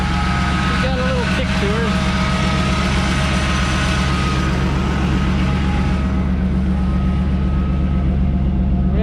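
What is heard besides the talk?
Chevrolet S10 engine starting and idling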